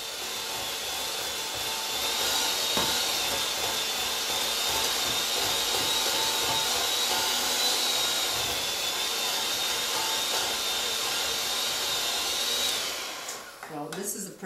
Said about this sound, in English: this is a pretty high-speed mixer